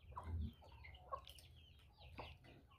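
Chickens cluck in short, soft bursts at a backyard coop after heavy rain, faint and somewhat distant, with no talking.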